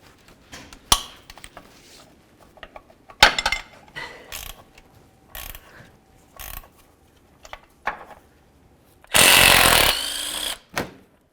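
A power tool spinning 18mm bolts out of a transmission mount bracket on a 2000-2005 Buick LeSabre, heard as short bursts of close clattering and clicking. A long, loud rattling run near the end comes with no talk.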